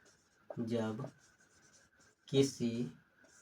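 A marker squeaks in two short strokes as someone writes on a board during a classroom lesson. The strokes are close and clear, with a quiet pause between them.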